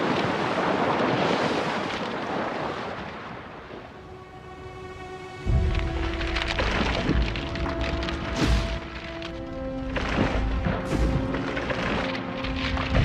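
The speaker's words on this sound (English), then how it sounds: "The waves continue to hammer at the ice, and the edge gives way under the relentless assault." Ocean waves crash and boom against the edge of sea ice, with heavy surging water and gusting wind noise building into repeated loud impacts.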